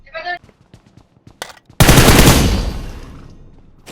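Gunfire in the mobile battle royale game BGMI: a few faint shots, then a loud close burst of rapid automatic fire that rings and fades, with a brief bit of player chatter at the start.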